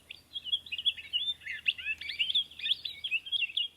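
Palila foraging in a small flock give a busy run of thin, high chirps and twittering calls, close and fairly clear over a quiet background, with a few words of speech briefly at the start.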